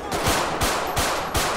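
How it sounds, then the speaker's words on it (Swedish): Bursts of rapid automatic gunfire in the video game GTA 5, loud and close, in three short volleys about a third of a second apart over a constant electronic background. "Skott avlossade. Vi behöver omedelbar assistans."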